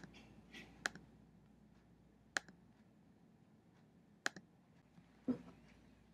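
Sharp, isolated clicks from operating a Smartboard, four or five crisp taps spaced a second or two apart over a faint, quiet room background.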